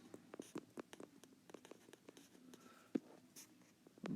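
Marker or chalk writing on a classroom board during a statistics lecture, quick taps and short strokes in an irregular run, quiet and fairly close, with no talking.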